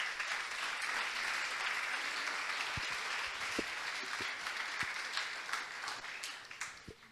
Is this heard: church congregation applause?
yes